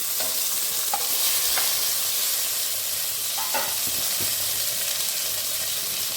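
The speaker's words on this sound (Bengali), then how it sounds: "এরপর আমি কেটে রাখা পটলগুলোকে একটু ভেজে নিচ্ছি।" Cut pointed gourd pieces fry in a pan over low flame after a cumin tempering, giving a constant close sizzle and hiss with a few scraping stirs.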